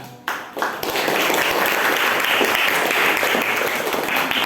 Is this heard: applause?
yes